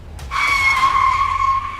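A car braking hard and skidding to a stop, its tires letting out one loud, sustained squeal that starts abruptly and holds steady for well over a second, close by, with no talking.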